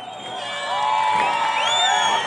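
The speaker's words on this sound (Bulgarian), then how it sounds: "Още веднъж аплодисменти за любезните домакини от МОЛ Варна!" An outdoor crowd at a summer drift show and tuning fest cheers and whoops for the hosts from a Varna mall, a burst of voices swelling loudly with high shouts and whistles over about two seconds.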